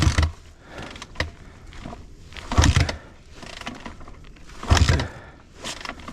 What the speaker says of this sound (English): See if it cranks flooded.